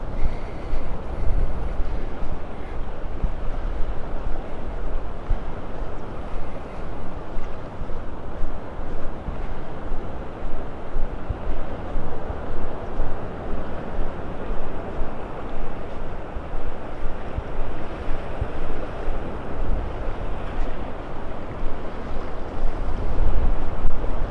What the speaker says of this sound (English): Walking right into that wind.